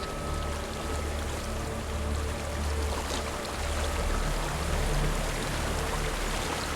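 Water flows steadily in the Hellblade: Senua's Sacrifice game world, a loud, continuous rushing wash like a nearby stream, with no voices over it.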